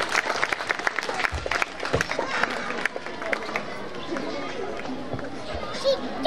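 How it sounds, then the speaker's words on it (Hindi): Audience applause at a school Mother's Day program, with clapping spread through a hall, uneven and mid-distance, mixed with crowd chatter and a few louder claps. "जोरदार तालियां बजाते रहिए आप सब"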